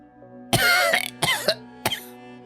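Three harsh, raspy coughs in close succession, loud and near, with brief pauses between them over a quiet, faintly humming background.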